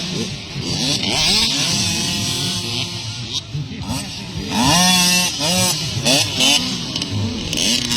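Several motocross motorcycle engines in a kids' race buzz and rev loudly nearby, pitch rising and falling as bikes accelerate, with people talking and shouting over them.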